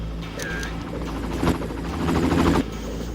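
A helicopter's steady rotor drone fills the scene in the video game Far Cry, loud and continuous, with brief sharp bursts that sound like distant gunfire.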